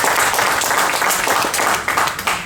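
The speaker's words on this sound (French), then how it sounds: "On peut applaudir." A Comic Con Paris conference audience applauds, many hands clapping in a dense, even burst that holds steady before thinning slightly toward the end.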